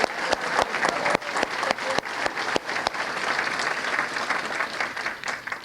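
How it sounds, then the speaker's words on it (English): Banquet guests at a sports hall of fame enshrinement dinner give a steady round of applause, many hands clapping together at moderate distance, with a few sharper claps standing out and little talk. "Let's have a round of applause for Ron Baklar"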